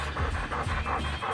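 A worn-out field trial dog pants heavily after its run, steady rhythmic breaths close by with a low background hum and no talking.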